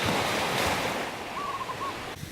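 Surf washes onto the beach at Kapalua on Maui's west coast, a steady roaring rush with a faint tonal wisp in the middle, fading slightly at the end.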